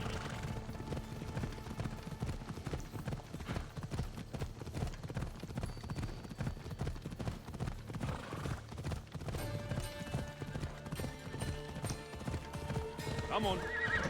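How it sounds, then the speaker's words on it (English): Horses in Assassin's Creed Odyssey clip-clop in a steady galloping rhythm throughout, with whinnying neighs rising over the hoofbeats and game music, while a voice talks briefly. "I guess we're commandeering their horses."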